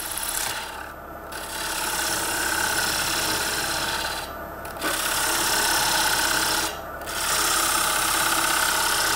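Ash wood is turned on a Coronet Herald lathe, a continuous loud rasping, scraping hiss of the tool cutting the spinning workpiece, broken by three short pauses where the cut lifts off.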